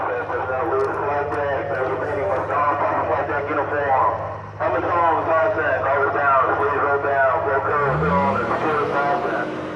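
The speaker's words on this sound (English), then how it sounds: "The helicopters are going to be landing." Helicopters approaching to land on the deck of a nuclear aircraft carrier, giving a loud, steady droning engine roar throughout, with a pitch sweep near the end and voices mixed in.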